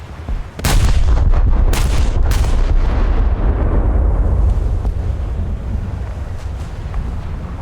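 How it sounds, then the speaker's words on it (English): Torpedoes slam into the Scharnhorst battleship during a naval video game: three loud, close explosive booms in quick succession, followed by a sustained heavy rumble that slowly fades. "Now we sailed right into those torpedoes"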